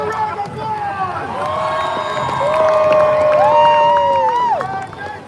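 Crowd cheering and whooping at a WaterWorld stunt show at Universal Studios Hollywood, loud and building, with shouts and a voice over the sound system rising through the middle before fading.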